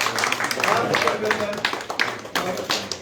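Audience clapping in welcome at a political joining event, with broadband bursts of claps rising and falling under loud continuous speech from a host over the crowd.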